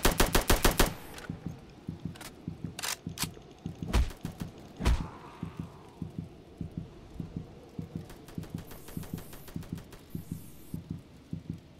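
Video game gunfire in the military shooter Task Force, with rapid automatic bursts, sharp single shots and heavy booms, loud and repeated throughout.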